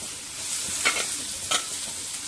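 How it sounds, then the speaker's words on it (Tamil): Mustard seeds and urad dal fry in a little oil on a dosa tava, a steady sizzle with two quick scraping stirs of a spatula. "இந்த தோசை தவாவில் கொஞ்சமாக எண்ணெய் ஊற்றி கடுகு உளுந்து போட்டு"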